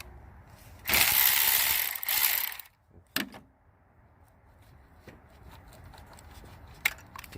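Ratchet wrench loosening the negative terminal on a 2005–06 Nissan Altima SE-R 3.5L battery: a dense burst of quick ratcheting clicks for about two seconds, a brief sharp clack, then faint scattered ticks and handling noises.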